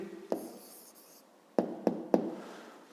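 A pen writes an answer in a notebook during a fifth-grade maths exercise, giving a faint scratch followed by several sharp taps and short strokes.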